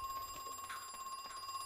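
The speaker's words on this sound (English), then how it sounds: "It's a phone." Telephone ringing in the video game Crow Country, a steady electronic bell tone repeating over the game's ambient background, fairly faint and without talk.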